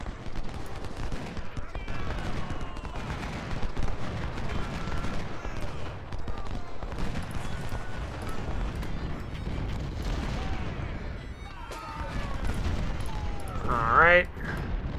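A Civil War battle in Ultimate General: Civil War rages with continuous volleys of musket gunfire and booming artillery, a steady loud roar of overlapping shots with a sharper crack near the end.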